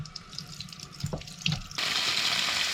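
Water gushes from a tap, discoloured and stirred up with dirt, rust and air bubbles as the pipes are flushed after a leak repair; a trickle with a few splashes swells into a full, steady rush.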